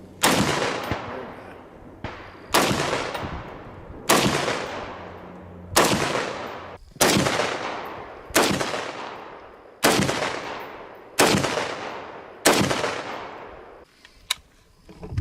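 Shots from a C 308 battle rifle ring out about ten times at a steady pace of roughly one every one to two seconds. Each blast is loud and sharp with a long echoing decay outdoors.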